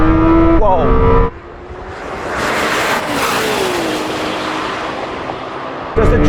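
A Lamborghini Temerario and a Ferrari 296 launch hard in a drag race, a loud engine rev giving way to a roaring acceleration that sweeps and fades slightly, then a close engine note returns at the end.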